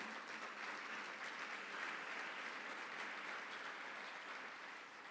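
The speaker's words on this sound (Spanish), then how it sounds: "Dele un fuerte aplauso al Señor." Sustained applause from a church congregation, a dense even wash of many hands clapping at steady loudness throughout, fading slightly at the end.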